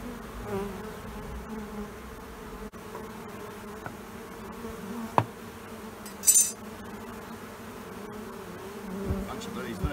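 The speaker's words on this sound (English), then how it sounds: "There's lots more comb and a lot of bees in the box," Honey bees buzzing around comb taken from a possum box, a dense steady hum of many insects up close, with occasional knocks and clinks of handling and a brief brighter buzz of a bee passing near.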